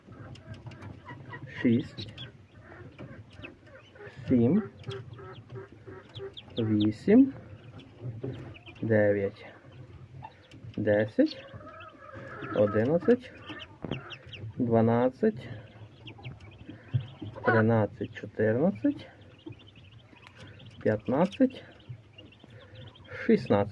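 Newly hatched ducklings and poultry peep and cheep in repeated bursts close by, the chirps rising and falling irregularly over a quiet background.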